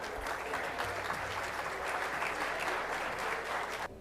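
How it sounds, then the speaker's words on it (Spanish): A conference audience at CADE 2017 gives strong applause to welcome presidential candidate José Domingo Arias. The clapping is steady and dense throughout, then cuts off abruptly near the end. "Un fuerte aplauso, por favor."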